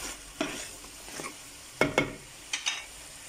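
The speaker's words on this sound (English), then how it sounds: "Give this a stir." Food being stirred in a hot pan while a salted chutney sizzles and fries, with several distinct scraping strokes of the utensil against the pan over a steady low sizzle.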